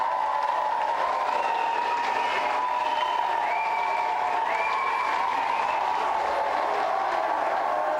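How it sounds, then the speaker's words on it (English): Continuous studio audience applause for two game show contestants fills the space, dense and steady, with a sustained tonal hum and faint whistles or cheers riding over it. "Let's have a big round of applause for both of our contestants."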